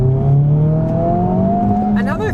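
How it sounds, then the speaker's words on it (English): A 2023 Honda Civic Type R's exhaust drones loud and close as the engine pulls steadily, its tone climbing smoothly, then a quick shift or lift near the end brings a brief burble. "Another thing that I'm also very impressed by is this exhaust."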